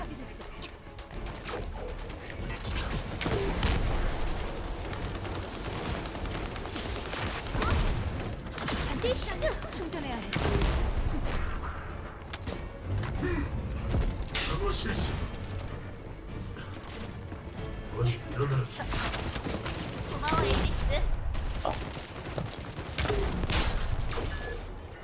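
Repeated blasts from a launcher weapon fired at orbs in a video game shooter, thumping explosions recurring every few seconds over continuous game noise and background music, with someone talking over it.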